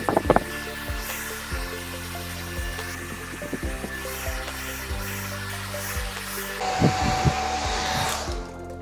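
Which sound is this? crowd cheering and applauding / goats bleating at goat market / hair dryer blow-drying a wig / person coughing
hair dryer blow-drying a wig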